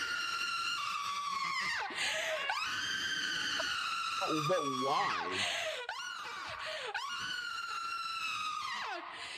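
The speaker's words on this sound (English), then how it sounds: "So I am going to spend the next minute screaming." A woman screams in protest, long, loud, piercing wails that rise and fall in several bursts with brief breaks between, and a short spoken question in the middle.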